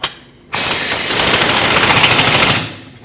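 A power tool tightens the rear arm-to-cradle bolt on a Jeep Cherokee in a loud, steady two-second burst of rapid hammering impacts, close by, ending abruptly.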